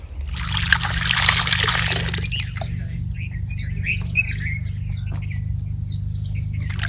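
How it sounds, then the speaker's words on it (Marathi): Guava fruits being rinsed under running water, a steady splashing trickle that is loudest in the first two seconds and then settles into softer dribbling and patter. "चला आता मी ही पेरू स्वच्छ धुवून घेते"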